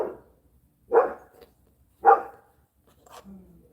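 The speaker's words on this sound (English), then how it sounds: "Excuse the dog outside." A dog barks three times, spaced about a second apart, muffled and somewhat distant as if outdoors.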